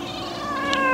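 A pet cat meows loudly and close by, one drawn-out harmonic call rising in pitch, heard at feeding time over steady household background noise.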